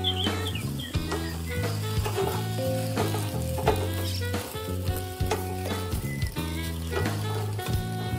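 Cooked amaranth and vegetables are stirred in a hot pan with a steady sizzle and scraping strokes, while music plays underneath, close and moderately loud.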